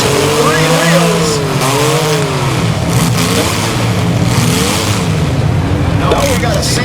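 Race cars in a powder puff class event, one running on three wheels, with engines revving and rising and falling in sweeping pitches, close and loud amid track noise and a voice talking over it.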